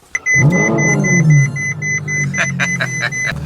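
A tuned Ferrari engine cranks and fires for its first startup, flaring into a loud, close rev that sweeps down and settles into a rough, throbbing idle, while a high electronic beep repeats steadily in the background.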